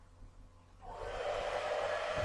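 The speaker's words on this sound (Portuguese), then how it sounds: "o secador para fazer o vento." A hair dryer switches on and blows steadily at close range to winnow husks from shelled peanuts, a low rumble rising into a loud, even whoosh of air.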